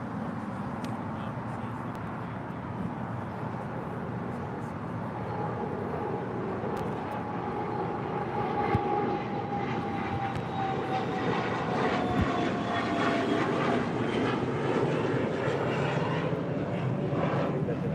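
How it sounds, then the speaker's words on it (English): A Challenger 350 business jet departs from LAX, a steady loud roar of jet engines with a faint rising whine, continuous throughout at a moderate distance. "This Challenger 350 is departing to Austin, Texas."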